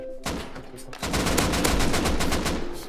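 Loud, sustained automatic gunfire in the survival game Rust during a raid defence, a dense run of rapid shots starting after a brief opening shot and continuing almost to the end.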